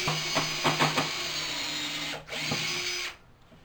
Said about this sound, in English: So I'm going to drill a hole from the bottom.